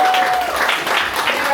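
Brief burst of audience applause at a poetry reading, loud and close, with voices and cheering mixed into the clapping.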